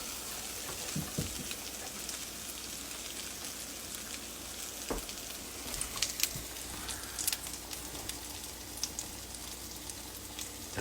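Pumpkin spice French toast cooking in a home kitchen pan, a soft, steady sizzle with scattered crackles and small clinks, fairly quiet and without talk.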